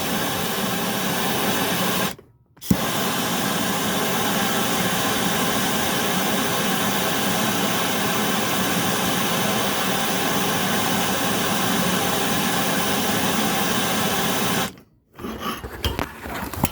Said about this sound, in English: You want to heat the back one too.